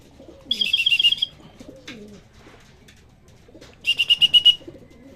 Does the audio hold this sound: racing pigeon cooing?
yes